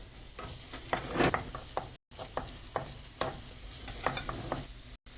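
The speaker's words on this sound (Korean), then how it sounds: "야채를 볶습니다." Vegetables stir-fried quickly in oil in a pan, giving a steady close sizzle with repeated scraping and stirring clatters of a utensil against the pan, with no talking over it.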